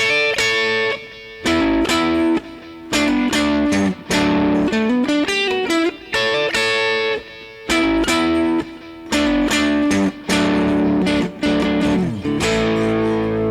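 An electric guitar plays a double stop lick, two-note chords picked in short phrases with brief gaps, clear and upfront with light overdrive.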